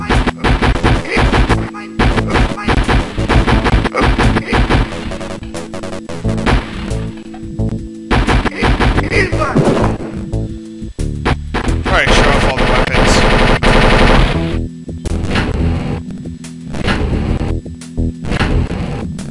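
Rapid, loud gunfire from a Wolfenstein 3D mod game, dense bursts of machine-gun fire and shots running almost continuously with brief gaps, close and dominant throughout.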